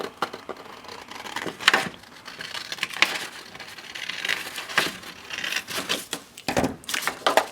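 Scissors roughly cutting out a paper planner magnet clip, with crisp crunching snips and paper rustling in irregular bursts, close and moderately loud.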